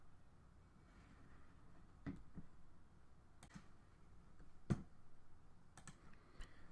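Sharp, isolated mouse clicks from a computer during game design work in GDevelop 5, several spaced apart over a quiet background with no talking.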